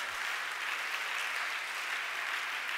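Sustained applause from a church congregation at a Sunday service, a dense, even wash of clapping hands filling the room without a break.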